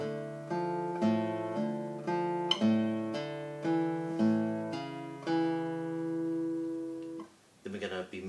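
Classical guitar playing a hammer-on passage from Beethoven's Moonlight Sonata, with steady arpeggiated plucked notes ringing clearly for about seven seconds, followed by a brief bit of handling noise.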